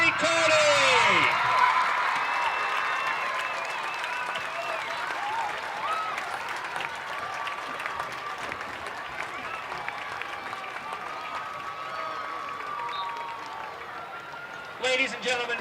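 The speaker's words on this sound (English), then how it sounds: "a great round of applause for our 2013 Hamilton High School homecoming king and queen in court" A large crowd at a Hamilton High School homecoming event applauds steadily for the homecoming king, queen and court, with a loud opening burst easing into sustained, even clapping across the whole stretch and a brief rise near the end.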